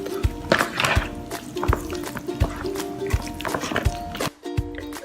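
Cornbread dressing mixture with broth is stirred in a bowl, giving wet sloshing and regular spoon knocks against the side, close and fairly loud.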